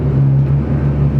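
Car engine running at high speed on a dynamometer, a steady loud drone with a strong constant low hum and little change in pitch across a short stretch, no voices.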